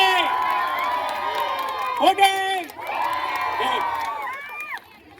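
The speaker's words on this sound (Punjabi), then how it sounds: "ਇੱਕ ਵਾਰ ਸ਼ਾਹੀ ਹਵੇਲੀ ਵਾਸਤੇ ਜ਼ਬਰਦਸਤ ਕਲੈਪਿੰਗ ਔਰ ਹੂਟਿੰਗ ਕਰ ਦਿਓ" Outdoor crowd at a Teej fair in Faridkot, Punjab whooping, cheering and hooting loudly in bursts, with some clapping blended in and overlapping voices throughout.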